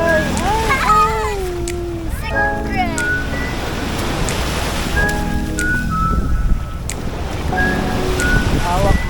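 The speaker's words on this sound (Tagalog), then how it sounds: "Maalon." Rough sea waves and wind gusting at Boracay beach, a constant roar of surf under close, loud voices talking and calling out throughout.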